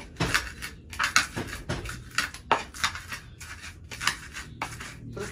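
Rhythmic scraping and knocking of a pestle on a stone mortar grinding spices for tempeh fritters, repeated gritty strokes about twice a second, close and clear with no talking.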